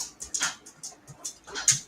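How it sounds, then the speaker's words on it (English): A big German Shepherd dog whimpering close by, a series of short, high, breathy whines and yips in quick irregular bursts. "It's a big dog, the German Shepherd's here."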